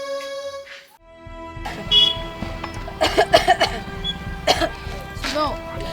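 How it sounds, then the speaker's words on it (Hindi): A woman coughs a few times at close range amid background voices and room noise, short harsh bursts clustered near the middle of the stretch, with people talking around her. "खांसी के साथ बुखार भी है।"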